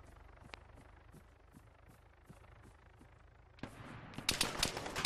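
Rapid bursts of gunfire in the video game Arma 3 crackle and pop, sparse and distant at first, then growing louder and denser toward the end.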